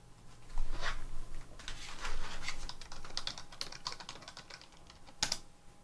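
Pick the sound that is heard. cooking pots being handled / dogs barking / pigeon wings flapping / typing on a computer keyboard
typing on a computer keyboard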